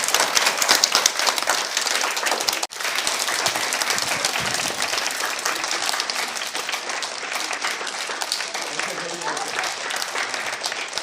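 A crowd claps loudly for teachers at a Teacher's Day event, sustained dense applause that barely dips for a moment and then carries on, gradually easing slightly toward the end.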